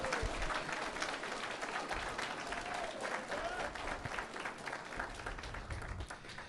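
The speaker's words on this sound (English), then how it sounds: "Round of applause, huh?" An audience at a Christianity versus secular humanism debate claps in sustained, dense applause, steady and moderately loud throughout with a faint voice underneath.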